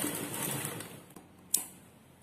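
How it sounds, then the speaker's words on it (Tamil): A sewing machine runs a short back stitch on a lungi seam, giving a quick whirring patter for about a second before it fades to near silence, then one sharp click. "இப்போ பேக் ஸ்டிச் போட்டு முடிச்சுக்கலாம்."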